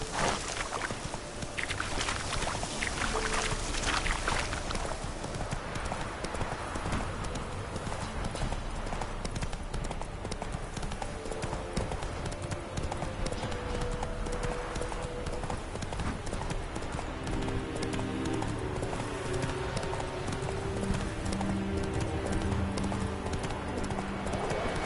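Horse hooves gallop in a steady clip-clop rhythm in the Witcher 3 video game, loud and continuous, with water and game ambience and music running underneath throughout.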